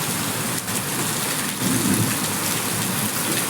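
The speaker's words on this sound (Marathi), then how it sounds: "बघा खूप छान असं जोरात अगदी धो धो धो धो पडला" Heavy summer rain, the first of the season, pouring hard in a steady, dense hiss on surfaces nearby, with a slight surge midway and no voices.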